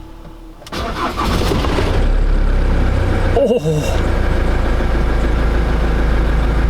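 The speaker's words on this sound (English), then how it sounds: "I'll finish it off with one of the best sounding engines of all time, the Transit Knocker." A Ford Transit van's diesel engine cranks briefly and catches, then settles into a steady, loud, close idle that runs to the end; a voice exclaims once near the start.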